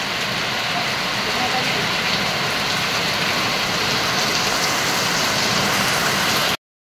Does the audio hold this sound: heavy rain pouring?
yes